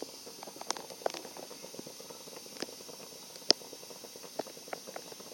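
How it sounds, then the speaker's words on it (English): A pot of chicken and dumplings broth coming to a boil, giving soft, irregular bubbling pops and faint simmering hiss at close range with no voices. "I see it starting to boil more."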